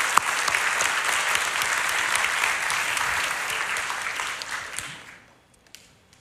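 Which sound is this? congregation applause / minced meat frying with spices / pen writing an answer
congregation applause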